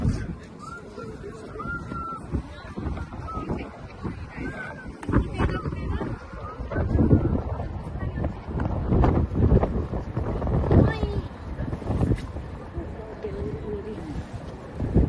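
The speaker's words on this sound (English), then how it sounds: "Wow, it's windy." Heavy gusts buffet the microphone with rumbling, uneven bursts throughout at the Portcullis Gate of Edinburgh Castle, while a voice speaks intermittently underneath.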